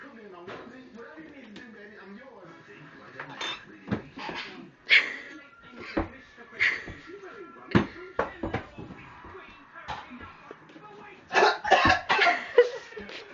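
Repeated harsh coughing bursts, close and loud, come in irregular fits, with people talking and laughing between them.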